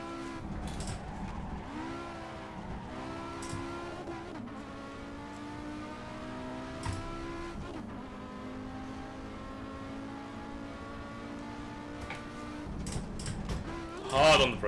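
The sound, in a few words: race car engine and tires in Assetto Corsa video game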